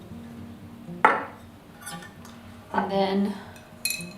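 Two clinks of a metal spoon against a jar or bowl as flour is spooned into a sourdough starter, a sharp tap followed by a longer scraping clatter, with a brief spoken phrase between.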